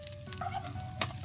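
Chopped onion hits hot cooking oil in a pan for a shrimp sinigang, giving a close, steady sizzle and crackle with small stirring scrapes and a brief clatter partway through.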